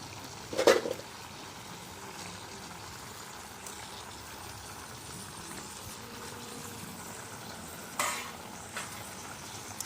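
Lai greens stirred into tomatoes and pork cooking in a pot, a quiet continuous sizzle and simmer with two sharp utensil clinks against the pan, no talking.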